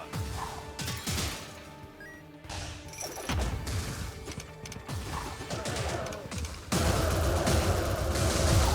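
The Fatal Firecrackers spell in the Wizard of Legend video game goes off as a dense, continuous volley of crackling, popping bursts that swells louder near the end, with no speech.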